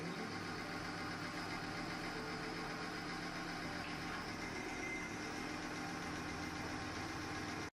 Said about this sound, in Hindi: इंजन अब भी सहज रूप से चल रहा है।